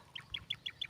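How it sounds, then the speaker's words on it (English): Birds near rice fields in the Philippines give five quick, evenly spaced chirping calls in under a second, fairly faint over quiet background. "some beautiful birds here"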